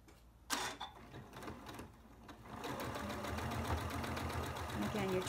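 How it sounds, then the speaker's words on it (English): A sewing machine stitches fabric scraps together for crumb quilting, starting with a couple of clicks and short bursts, then running in a steady, close mechanical whir for several seconds. "you're trying to sew in straight seams"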